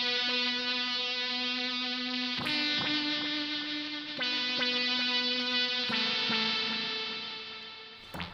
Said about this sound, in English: I'm just going to punch my reverb content up a little bit using the RV5